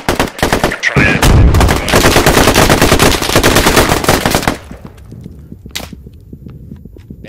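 Heavy bursts of machine-gun and rifle fire from the military shooter Squad on the Kohat Toi map, loud and dense for about four seconds, then a few scattered, fainter shots trailing off into quiet.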